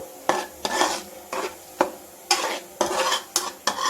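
Egg fries in a pan while a spatula stirs it, a series of sharp metallic scrapes and knocks against the pan in an uneven rhythm over a soft sizzle, close and clear.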